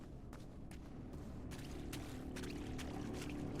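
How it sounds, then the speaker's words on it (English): Rushing, splashing water from a video game plays as a continuous wash, swelling louder with bursts of spray partway through. "the water, like, sound effect is good."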